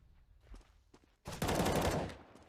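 A short burst of rapid gunfire from a CS:GO professional match on Dust2 rattles out loud and close, preceded by faint footsteps and quieter ambient game sounds.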